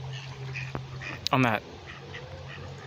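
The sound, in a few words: mallard ducks quacking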